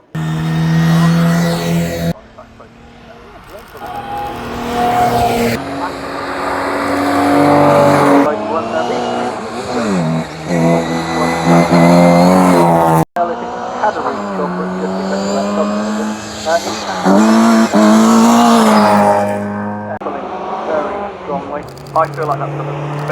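Fast race cars at the Shelsley Walsh hill climb roar past one after another, loud engines rising and falling in pitch with gear changes as each car passes close by.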